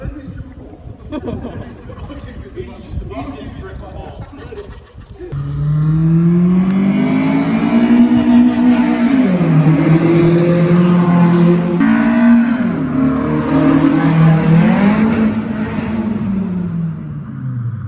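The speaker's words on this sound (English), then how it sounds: "Our friend Lachie showed up in his Honda Prelude, got VTEC. It goes quick" A Honda Prelude with VTEC accelerates hard at a JDM car meet, its engine note loud and close, climbing in pitch, dropping at gear changes and climbing again, after a few seconds of quieter background noise and voices.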